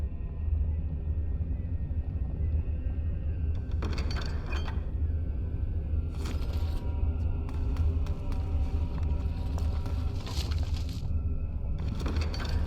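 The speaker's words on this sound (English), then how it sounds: "Ooh, lightning." Thunder crackles and rumbles in the video game Dragon Age: Origins, with several loud bursts over a steady low rain-like roar and no speech.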